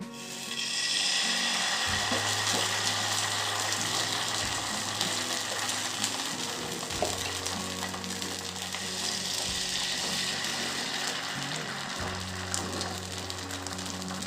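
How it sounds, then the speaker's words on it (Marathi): Ghee sizzling steadily on a hot pan before mini dhirde batter goes in, a constant close frying hiss with a low hum running beneath it and no talk. "तापलेल्या पॅनवर मी आता थोडे साजूक तूप टाकून घेते आहे."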